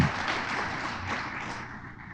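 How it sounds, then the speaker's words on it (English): Applause fills a speech event for an official's kickoff remarks, a steady wash of many hands clapping that fades slightly toward the end. "give Anthony a round of applause"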